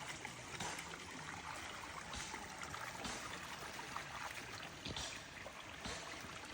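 A forest stream runs down past a Maharashtra village shrine, giving a steady, close, full rushing and trickling of water that never lets up, with no voices heard.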